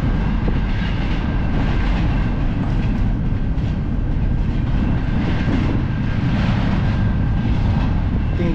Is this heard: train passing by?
yes